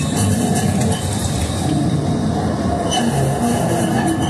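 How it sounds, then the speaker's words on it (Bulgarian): A Sofia tram on line 5 runs back from Knyazhevo toward the Palace of Justice, heard from inside as a loud, continuous rail rumble with steady wheel noise throughout. "И сега ще завърши курса от трамвая обратно към съдебна палата."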